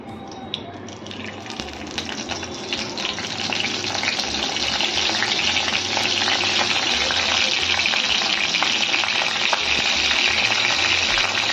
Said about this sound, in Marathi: याच्यात तेल घालते थोडंसं, जास्त नाही घालत. यामध्ये मी थोडंसं कढीपत्ता घालते.